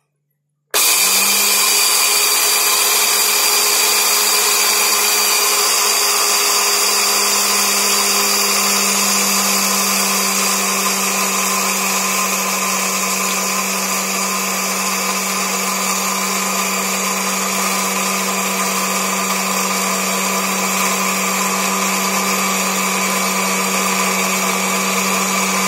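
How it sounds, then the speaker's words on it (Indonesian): A blender starts abruptly and runs at a steady high-pitched whine for a long stretch, grinding budgerigar feed mash with a gritty texture and no voices. "kita blender dulu"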